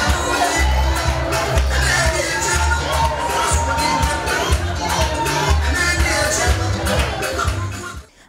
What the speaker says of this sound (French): Le goût du cocktail fut relevé par les acclamations et les cris du public.